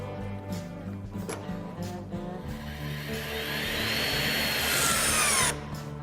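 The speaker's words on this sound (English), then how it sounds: "What I'm using here is a HYTORC Lithium Series 2 with a HYTORC washer driver." A HYTORC Lithium Series 2 battery torque tool with a washer driver runs on a bolt with a steady motor whir that builds to a louder high-pitched whine near the end, then cuts off abruptly.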